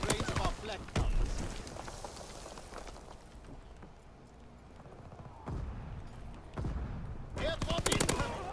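Gunfire and flak cannon fire in a video game battle, with bursts of rapid shots early on and again near the end. A quieter stretch in the middle carries scattered distant shots, and a speaking voice runs under parts of the action.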